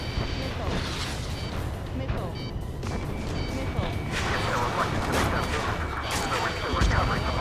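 Sustained gunfire and artillery rumble from the Ace Combat 7 combat video game, a dense, steady barrage with crackling bursts and low booms that continues throughout the clip.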